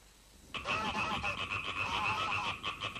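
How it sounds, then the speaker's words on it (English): Geese honk in a cartoon, a dense burst of overlapping nasal calls that starts abruptly and continues loudly to the end. "Startled by the noise of the gooses, Mario came out of the house."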